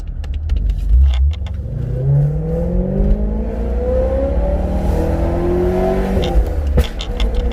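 Deep, continuous engine rumble from a BMW E92 M3 with rising and falling revs, a low burbling exhaust tone throughout, loud and close.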